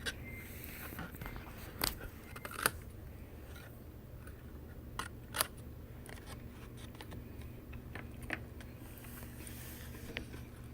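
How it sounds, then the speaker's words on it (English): Scissors cut cardstock tabs along score lines for a textured flip-top box, giving sparse, quiet snips and crisp clicks at irregular intervals over a faint background, heard close with no talking. "Going to cut these edges right to those long score lines."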